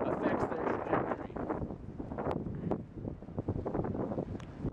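Gusty wind buffets a microphone outdoors on a breezy disc golf course, rising and falling in uneven rushes, with muffled voices faintly underneath.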